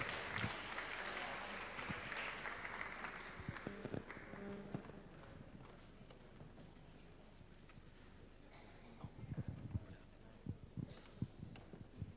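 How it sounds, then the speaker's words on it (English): Audience applause for a married couple, Reuven and Cherise Korff, at a church conference testimony, a broad steady wash of clapping that fades after a few seconds, followed by scattered thuds and soft movement. "So can we give a warm round of applause for Reuven and Cherise Kroff?"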